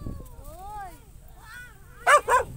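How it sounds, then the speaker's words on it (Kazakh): Two dogs frightened of each other on a muddy rural road where a car is stuck, giving short whimpering yelps and a couple of sharp barks close by, with a brief low voice at the start. "Екі ит бір-бірінен қорқып."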